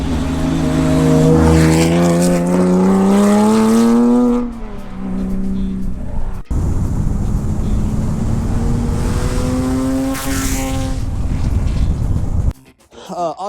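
A 2004 Porsche 911 GT3 with a 996 Cup car exhaust revs hard and loud, rising and falling through several gear changes, then drops out briefly before another long, rising pull.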